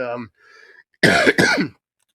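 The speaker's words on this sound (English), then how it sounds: "sorry for the cough" A brief throat-clearing cough in two quick bursts, close to the microphone, after a short moment of voice.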